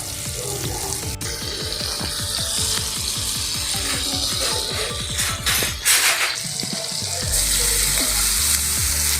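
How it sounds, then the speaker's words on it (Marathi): Butter sizzles in a hot pan for an omelette tempering, with rapid crackling and spattering, followed by a brief clatter and a brighter, steadier sizzle near the end. "सर्व बटर मी टाकणार आहे फोडणीला"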